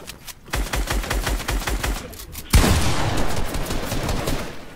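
Video game gunfight with rapid bursts of automatic fire, a quick rattling volley first, then a short gap before a louder, denser barrage that crowds in from several sides and keeps going.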